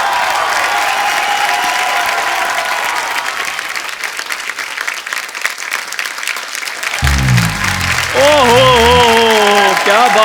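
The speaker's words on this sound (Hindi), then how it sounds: "जोरदार तालियां एक बार बाबा जी के लिए" Loud studio audience applause and cheering on a TV comedy talk show, a dense ovation that carries through most of the clip, with a voice talking over the final stretch.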